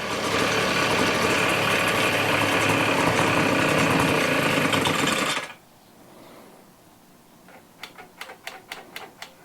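A Toro leaf blower engine idles while warming up, buzzing loud and close for about five seconds before cutting out abruptly. Quiet room tone follows, then a quick series of sharp clicks.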